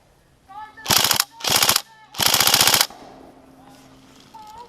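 Three loud, close bursts of rapid automatic fire from an airsoft gun with a high-capacity magazine, each a dense rattling volley of about a second, with faint voices in the background between them.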